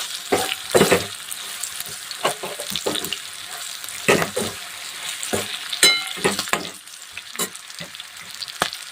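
Green chillies roasting with salt in a hot pan, giving a steady crackling sizzle broken by repeated stirring scrapes and taps close by, with no talking.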